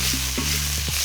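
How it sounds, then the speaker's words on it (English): Cucumbers stir-frying with a splash of rice wine in a wok over very high heat, a steady hot sizzle broken by a few sharp scraping stirs, close and loud with no voices. "And let that cook over really very, very high heat."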